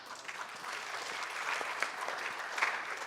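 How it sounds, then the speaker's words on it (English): Steady, fairly soft applause from a conference audience at a Miami investment summit livestream, cheering a speaker. The clapping is continuous and evenly textured throughout, with no voices standing out. "Let's cheer for that."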